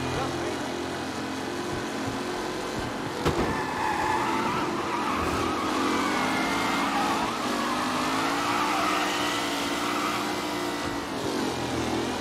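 A pack of race cars in Mafia: Definitive Edition roaring away from a race start, a dense sustained engine drone with rising and sliding pitch, loud and steady throughout with a brief sharp impact partway, while voices talk over it.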